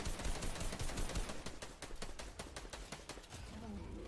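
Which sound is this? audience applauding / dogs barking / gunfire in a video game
gunfire in a video game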